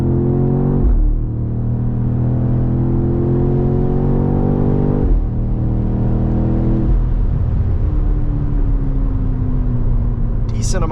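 A 2024 BMW X6M Competition pulls hard under power, its engine note climbing through the gears in rising harmonic sweeps, loud and close from inside the cabin, with brief shift breaks along the way.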